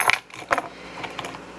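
A bunch of keys is handled while someone looks for the one that fits a door: a few sharp metallic clinks near the start, then softer jingling, all close by.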